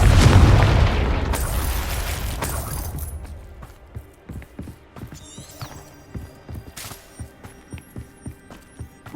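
A Confringo fire spell in the video game Hogwarts Legacy erupts in a loud, booming blast that rolls away over a few seconds, followed by a steady run of footsteps.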